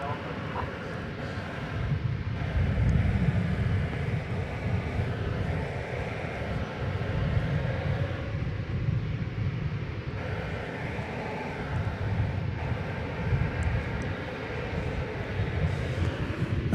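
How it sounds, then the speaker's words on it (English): A Boeing 737-800 airliner on the runway at DFW airport, a distant, steady engine roar and rumble that swells and eases over a long stretch, with faint talk over it. "This is Flight 1552 to Colorado Springs, 737-800 on Runway DFW."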